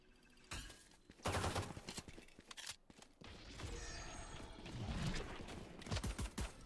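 Gunfire in the video game Valorant, with bursts of rapid shots and sharp single cracks spread across the round, loud and close, with no talk over them.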